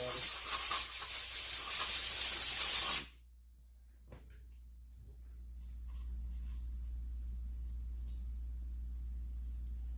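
Sealer sprays from an aerosol can onto the intake boot of a Husqvarna 359 chainsaw as a close, loud steady hiss lasting about three seconds, then cuts off abruptly to a quiet room with a faint click.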